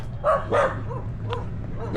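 Several dogs on the island of Siquijor bark in a few sharp, close yaps, followed by scattered fainter barks and yips in the background.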